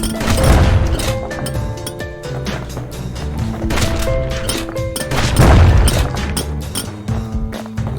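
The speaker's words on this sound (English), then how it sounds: "That's a lot of explosions." Dense, layered explosions and impact crashes from the video game Bastion, in the Prosper Bluff area, booming repeatedly with no letup over a busy game soundtrack.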